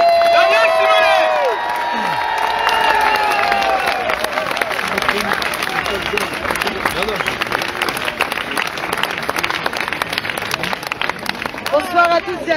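A large crowd at an outdoor political rally in Paris cheers and applauds loudly and continuously, with whistles and shouts rising over dense clapping.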